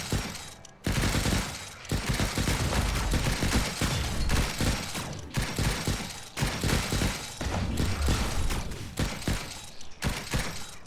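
Machine guns fire in the video game Stranded: Alien Dawn, a dense continuous fusillade of rapid thumping shots that keeps going almost without pause for the whole stretch, loud and up front.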